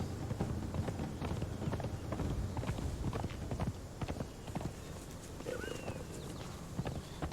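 A warhorse in Conan Exiles gallops with a rapid, steady clip-clop of hooves, close and continuous, with a slight change in footing partway through and faint ambient sound underneath.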